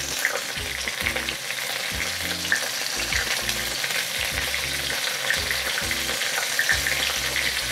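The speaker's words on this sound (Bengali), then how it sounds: "আলু পটল সব কিছু একসঙ্গে ভালো করে আমি একটু নাড়াচাড়া করে ভেজে নেব।" Potatoes and pointed gourd sizzle steadily in a hot pan while a spatula stirs them in a regular series of scraping knocks, close and fairly quiet, with no talking.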